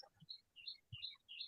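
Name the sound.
birds chirping in background of call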